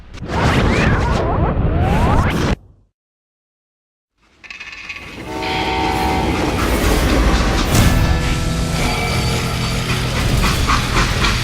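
A video-game freight train rumbles loudly with clattering and a whistle-like tone, cut by a sudden two-second silence before the rolling noise resumes.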